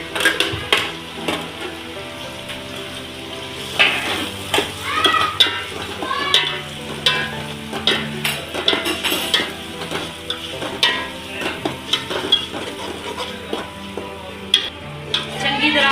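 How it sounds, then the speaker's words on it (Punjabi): Onions browning in a pan for pumpkin kofta curry are stirred, giving a soft sizzle with scraping and clinking strokes over continuous background music. "ਆਪਾਂ ਇਹਨਾਂ ਨੂੰ ਪਿਆਜ਼ਾਂ ਨੂੰ ਜਿਹੜਾ ਬਰਾਊਨ ਕਰ ਲੈਣਾ ਚੰਗੀ ਤਰ੍ਹਾਂ ਨੂੰ ਹਿਲਾਉਣਾ"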